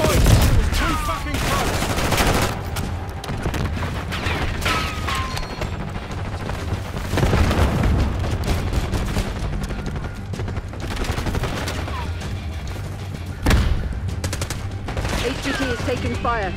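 Dense, continuous gunfire from Call of Duty: Black Ops 6 fills the whole stretch: rapid automatic bursts and single cracks layered over one another, loud and close, with occasional heavier impacts and faint voice callouts underneath.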